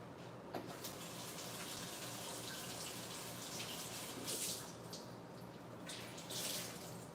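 Running tap water as sticky hands are rinsed under a kitchen faucet, a steady moderate gush with a couple of louder splashing surges, no talking.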